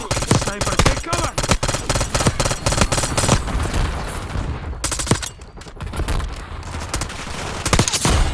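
Rapid gunfire in the video game Black Ops 6, dense bursts of loud shots and automatic fire crackling almost continuously, with a brief lull midway before the shooting resumes.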